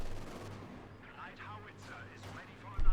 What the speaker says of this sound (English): Mortar there from Miragefla.